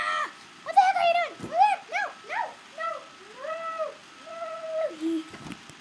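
A cat gives a run of rising and falling meows at close range, about eight distinct calls spaced across several seconds, with a few brief bits of voice mixed in.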